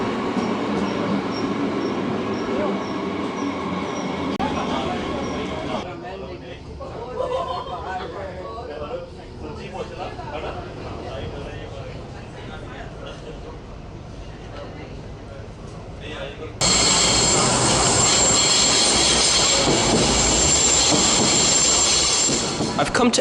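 Train running in Germany, heard from aboard or close by as a steady loud rumble of wheels and carriages that shifts in character partway through and grows brighter and louder toward the end, with a voice speaking over it.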